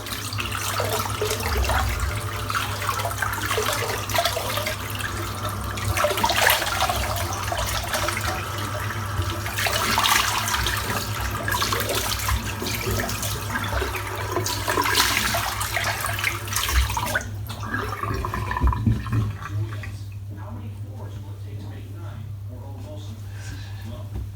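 Tap water runs steadily into a sink while a safety razor is rinsed, a continuous splashing rush with a low hum, cutting off near the end; someone talks over it.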